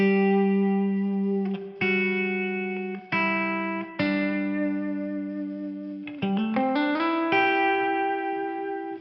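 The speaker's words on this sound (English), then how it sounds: "We can get away with a nice amount of reverb if we're doing things like just single notes." Clean electric guitar picks out single notes and short melodic phrases with a generous reverb tail, each note ringing out and sustaining into the next, close and alone with no voices.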